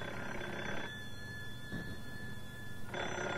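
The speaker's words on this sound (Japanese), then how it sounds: "電話よ。" Telephone ringing in a Japanese radio drama, a continuous electric bell trill filling a few seconds with brief pauses between rings, loud and close, with no talking.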